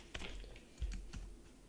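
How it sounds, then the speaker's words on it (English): Computer keyboard keys are pressed for a shortcut, a few quiet, soft clicks in close succession against a faint room background. "I can do it by pressing the Control key on the keyboard, the Shift key, and then doing the down arrow."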